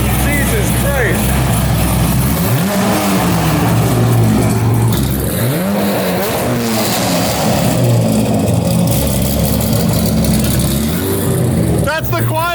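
An LS3 V8 car engine with a custom exhaust revs loud and close, deep burbling rising and falling in repeated surges, with people talking over it.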